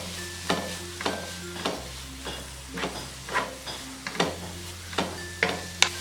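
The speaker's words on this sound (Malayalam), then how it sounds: "ഈ സമയം നമുക്കിതിലേക്ക് ഏലക്ക പൊടിച്ചത് ചേർത്ത് നല്ലതുപോലെ ഇളക്കി കൊടുക്കാം." A spoon stirs cooked carrot with cardamom powder in a pan, giving about a dozen regular scraping strokes over a soft sizzle, close and clear with no voices.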